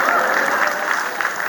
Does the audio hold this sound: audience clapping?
yes